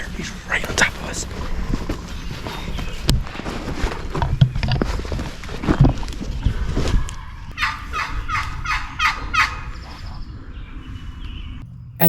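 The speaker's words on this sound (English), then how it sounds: "we hear a gobble" Wild turkeys gobble on private land in northern Illinois during a hunt, a burst of several rapid rattling gobbles from a moderate distance following hushed talk and rustling nearby.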